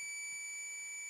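Steady continuous beep from a digital multimeter on continuity mode while testing a coil, a single sustained electronic tone running throughout, alone with no talk.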